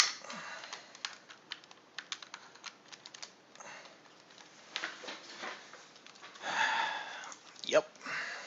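Rapid typing on a computer keyboard during a gaming stream, dense irregular key clicks throughout, with sniffs and breathing mixed in near the end.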